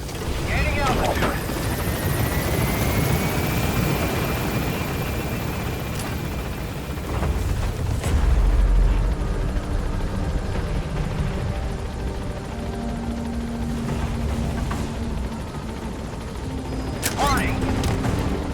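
A helicopter in Metal Gear Solid V gains altitude, its rotor and engine roaring loud and steady throughout. Bursts of gunfire and booms cut in, and a radio voice speaks over it.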